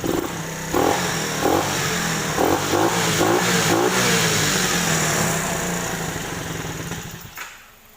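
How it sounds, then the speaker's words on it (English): A small quad bike engine, running rich with too much fuel, holds high revs steadily for several seconds, loud and close, with a few brief rev surges before it cuts off near the end. "It's holding its revs a bit high because I've given it a bit too much fuel"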